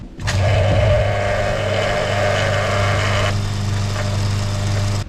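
An 800-watt portable electric air compressor runs steadily: it kicks on with a sharp start, then settles into a loud, even motor drone with a buzzing hum that continues throughout.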